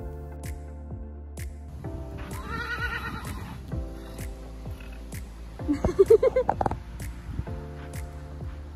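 An old stallion whinnies in a horse training setting, a rising, quavering neigh of moderate loudness with softer snorts and hoof movement around it.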